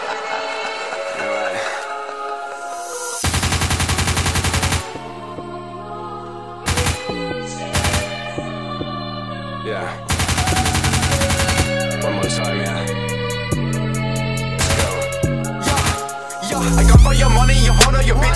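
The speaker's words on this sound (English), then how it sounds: "Machine guns and shit." Rapid machine gun fire bursts as a sound effect in a rap music video, loud, rattling volleys cutting in and out over the beat and layered music.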